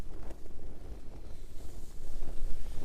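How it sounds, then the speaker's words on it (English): A fresh breeze of about 15 to 20 mph, gusting to 25, buffets the outside of an Exped Mars II tent at a wild camp in Northumberland, a continuous loud rushing with a low rumble that strengthens toward the end. "We've got a fresh breeze outside, about 15 to 20 mile an hour"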